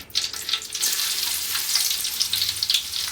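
Ginger and green chillies frying in melted homemade ghee, a bright, close, continuous sizzle with crackling pops and no talking.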